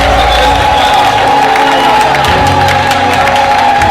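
Wedding guests cheering and applauding, a dense, loud sustained roar of claps, whoops and shouts filling the space without a break.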